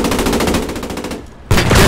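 Loud, rapid cannon fire rattles in a fast burst in a WW2 shooter video game, stops briefly, then resumes with a heavy blast, with no talk.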